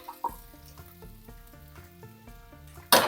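Kashmiri chillies, sliced small onions and a piece of coconut sizzling in a pan, faint crackling frying under a repeating tonal hum, with a sharp clatter as ingredients go in at the end.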